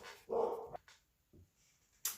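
A dog barks in a short burst of loud, close yips and woofs, followed by a fainter whimper or yelp and then a sharp high-pitched bark at the end.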